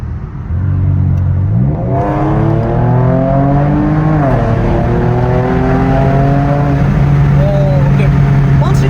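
Kia Stinger accelerating hard on a winding road, heard from inside as the engine climbs steadily through several gear changes, its loud drone rising in pitch and dropping at each shift, with no speech over it.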